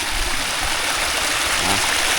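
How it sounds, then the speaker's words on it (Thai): Water pours and rushes steadily from a pumped water system near a Phu Thai village home in rural Thailand, a loud, continuous close-up gush with no break across the short stretch. "น้ำไหลเลยนะ"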